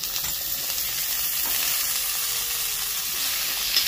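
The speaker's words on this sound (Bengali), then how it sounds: "এবার আলু আর পেঁপেটাকে ভালো করে ভেজে নেবে" Diced potato and papaya fry in a pan, a constant close hiss and sizzle running evenly throughout with no talking.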